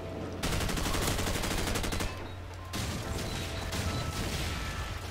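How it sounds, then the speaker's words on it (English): Frag grenades and gunfire in the Call of Duty 4 video game, a dense, loud stretch of rapid automatic fire with a brief lull, then continued bursts and crashing blasts layered over a steady low rumble. "all the fucking goddamn frags I'm hearing"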